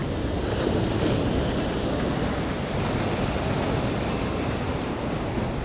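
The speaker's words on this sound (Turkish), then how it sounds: "dalgaların boylarınıza bak" Steady roaring sea surf at Monopoli, Italy fills the whole stretch, a dense wash of breaking waves with no pauses, loud and close.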